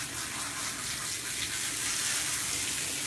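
A shower running over a large dog in a tub, a steady close hiss of spraying water with no pauses.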